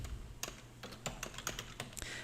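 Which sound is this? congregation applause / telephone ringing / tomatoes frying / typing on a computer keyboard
typing on a computer keyboard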